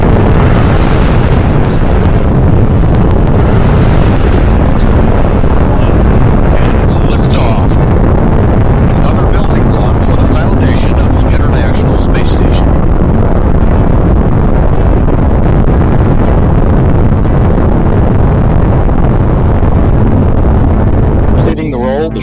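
Space shuttle main engines igniting at launch in the Spaceflight Simulator video game, a loud sustained roar with heavy low rumble and crackling that fills the whole stretch and cuts off abruptly at the end.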